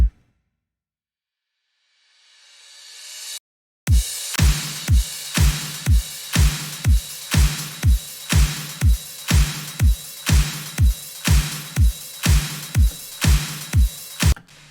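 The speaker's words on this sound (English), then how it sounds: "If I play all the drums together," A rising whoosh leads into a full electronic drum groove, punchy kicks and snares hitting in a steady, even rhythm with bright cymbal wash.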